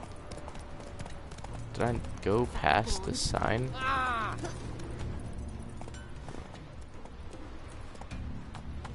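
Hoofbeats of a horse walking in The Witcher 3, a steady soft clip-clop running under a voice as he talks throughout.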